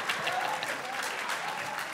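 Studio audience at a comedy show clapping, a dense, even burst of applause filling the room for a couple of seconds.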